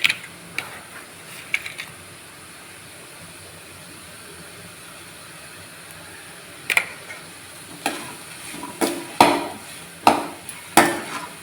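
Vegetables sauté in a pan for fried rice under a low continuous sizzle, with sharp spatula knocks and scrapes against the pan coming thick and regular toward the end.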